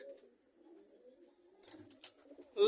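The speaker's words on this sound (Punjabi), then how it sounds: "ਲੋ ਭਰਾਵੋ ਆਪਣੇ ਕਬੂਤਰ ਕੱਢ ਲਏ ਸਾਰੇ ਬਾਹਰ" Pigeons of the Rajan strain coo softly in low, faint murmurs that run throughout, with a brief brighter flutter or rustle near the end.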